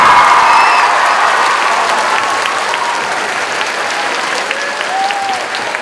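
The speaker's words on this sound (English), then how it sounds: "give it up for another round of applause for Nathan" A talent-show audience claps steadily for a young drummer named Nathan, a dense, even wash of applause held at full strength for several seconds with a few faint whoops mixed in.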